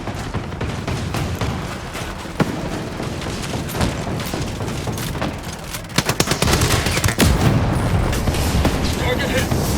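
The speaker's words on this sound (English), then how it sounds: "Incoming mortars!" Incoming mortar fire and explosions in the video game Ghost Recon Breakpoint: dense, loud bursts of gunfire and booming blasts roll on throughout, growing heavier toward the end, with voices faintly mixed in.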